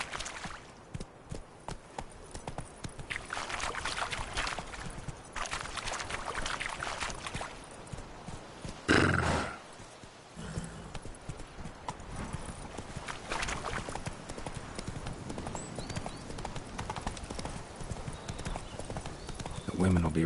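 Roach, the horse in The Witcher 3, gallops with a quick, continuous clip-clop of hooves through the scene, briefly broken by a louder burst, while people talk over it now and then.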